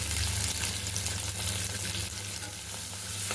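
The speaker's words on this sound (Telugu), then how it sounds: "ముందుగా మెంతికూర వేస్తున్నానండి" Fenugreek leaves frying in a pan, a steady close sizzle with faint stirring scrapes running throughout, no voices.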